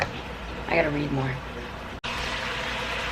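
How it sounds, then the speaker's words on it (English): Chicken broth pours into a pressure cooker as a soft steady liquid stream, briefly interrupted near the middle before continuing; a voice speaks quietly over the start. "I'm pouring my liquid in, which is just chicken broth"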